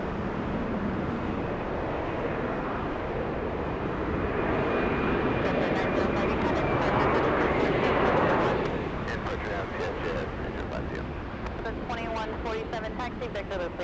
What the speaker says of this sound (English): Next arrival flying in is Delta 2147. We'll get really close to the arrival.